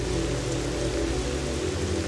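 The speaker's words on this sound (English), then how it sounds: "It's raining" Continuous rain falling in The Legend of Zelda: Twilight Princess, a loud, dense, even hiss with low game tones humming beneath, steady throughout and with no talk over it.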